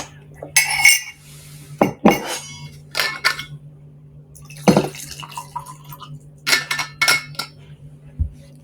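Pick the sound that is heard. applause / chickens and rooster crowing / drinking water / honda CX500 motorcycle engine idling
drinking water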